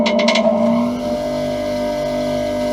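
An Axminster Craft AC200WSG bench grinder runs with a steady loud motor hum and whine, a few brief rattling pulses at the start, then a constant drone with no voices over it.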